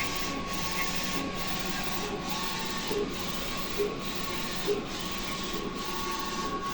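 Printer running steadily, its print head sweeping back and forth in regular passes about once a second under a constant mechanical hum, close and moderately loud.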